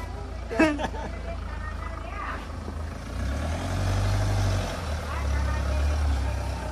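A vehicle engine rumbles steadily as it pulls away and drives on, a low continuous drone that swells midway, with people talking and calling out over it.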